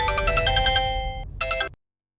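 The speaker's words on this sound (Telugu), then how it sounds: "ఫోన్ రింగ్ అవుతుంటే లిఫ్ట్ చేయవేంటే?" A mobile phone ringtone plays loud and close as a bright repeating melodic pattern, pausing briefly before a final burst, then cutting off abruptly.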